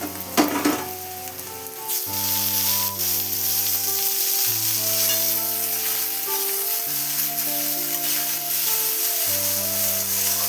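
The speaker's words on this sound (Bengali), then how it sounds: "পাঁচ মিনিটের মতন ভেজে নেবো টমেটোটা" Tomatoes frying in a pan of reddened onions for a Bengali ghugni snack: a steady, close sizzle runs throughout, with a sustained tonal melody playing alongside it and no talking.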